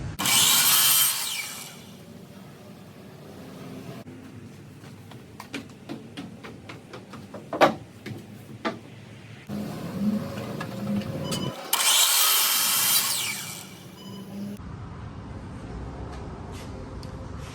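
A power saw cuts wood boards to length in two loud, close, rasping bursts at the start and near the end, with knocks, taps and handling of boards in between.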